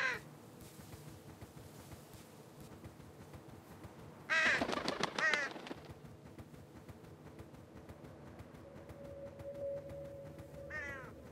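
Crows cawing in the video game Cats and the Other Lives, a short burst of harsh caws in the middle over a low ambient game backdrop, with a fainter call near the end.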